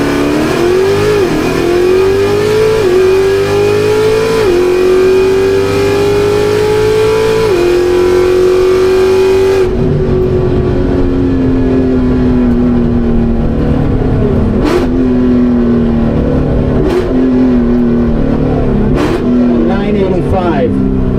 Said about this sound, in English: Phenomenal drag race for those cars and trucks.